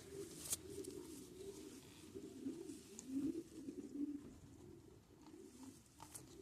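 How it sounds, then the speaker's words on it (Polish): A pigeon coos softly and repeatedly in low, murmuring tones, faint and steady with a little background noise. "Naprawdę fajny gołąb."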